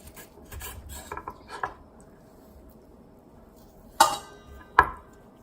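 Quiet scraping strokes of a knife scoring raw beef ribs on a board, followed by two sharper knocks of the blade against the surface.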